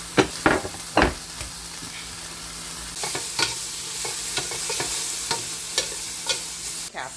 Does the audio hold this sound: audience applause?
no